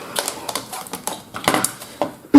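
Decorative scrapbook papers of about 16 by 16.5 cm are cut for a Russian-style house album, giving a run of crisp, irregular snipping clicks close to the microphone, ending in a louder knock.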